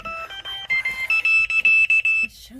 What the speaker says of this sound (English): that's a new alarm. I did not know it was gonna go off